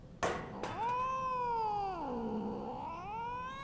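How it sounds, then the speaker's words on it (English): A cat in a Final Fantasy XIV raid story scene lets out one long drawn-out meow that rises, dips low and lifts again, loud and close, with no talk over it. "Yep, that's a cat."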